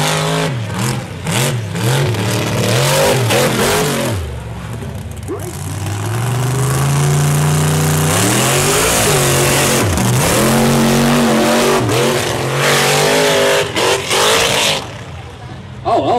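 A Ford Bronco race truck with a Ford motor revs hard on a hill-and-hole race course, its engine climbing and dropping in pitch through loud sustained pulls while a commentator talks over it.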